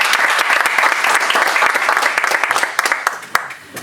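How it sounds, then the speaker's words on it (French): Audience breaking into loud, sustained applause at an inauguration evening in Paris, many hands clapping together close by, with sharp individual claps standing out as it tapers off. "Si vous pouvez l'applaudir par avance."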